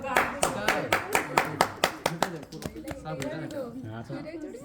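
Guests at a wedding ceremony clap in a run of sharp, evenly spaced claps close by that fades after a couple of seconds, followed by speech.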